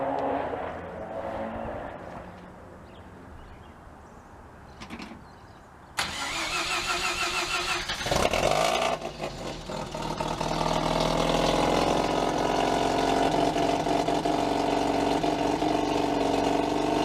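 A rotary-engined car cranks and fires up while being unloaded, catching abruptly after a quieter stretch and settling into a loud, steady, buzzing idle that holds close to the microphone, with no talking.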